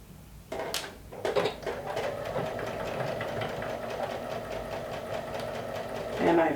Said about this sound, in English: we're going to stitch it down with just a straight stitch.